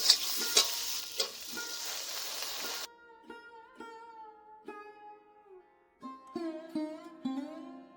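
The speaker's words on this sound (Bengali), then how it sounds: "জিরে গুঁড়ো লঙ্কা গুঁড়ো এখন ভালো করে ভেজে নিতে হবে" A cumin and chilli powder masala fries in a pan for banana kofta curry, sizzling with a few stirring clicks for about three seconds before it cuts off to quiet ringing tonal notes.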